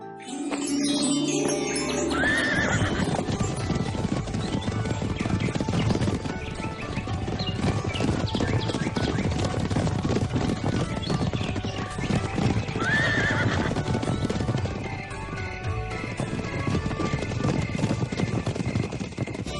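Several horses from a Tamil-dubbed costume fairy-tale series trot with steady, busy clip-clopping hooves, loud and continuous, while neighs and whinnies rise over the top twice. Music or other background sound plays throughout.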